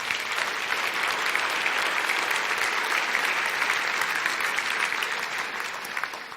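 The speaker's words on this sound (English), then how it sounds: "Let's give them a big round of applause." Loud, sustained applause from a large crowd at a State of the City event, steady and dense throughout with no speech over it.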